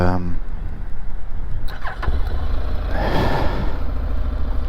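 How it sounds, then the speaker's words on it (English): A Honda NC750X DCT motorcycle starts on the electric button: a brief starter whirr gives way to the engine catching and settling into a close, steady idle, with someone talking over it. "once you've got the engine started up, so it starts up on the normal electric button"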